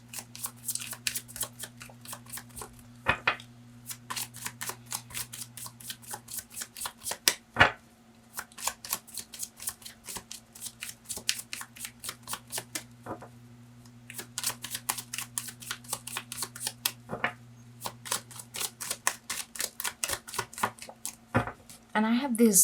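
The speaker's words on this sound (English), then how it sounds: "I'm just gonna shuffle two more times" A deck of 22 tarot cards is shuffled again and again in quick crisp riffling bursts separated by short pauses, close and clear, with faint talk in places.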